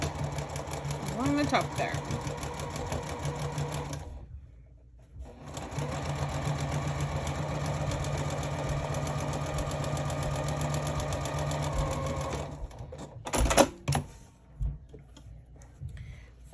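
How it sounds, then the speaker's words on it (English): A sewing machine stitches fabric for a digital sewing pattern, whirring loudly and steadily in two long runs with a brief pause between them, then stopping, while a person talks briefly near the start. "So we'll go ahead and stitch that into place"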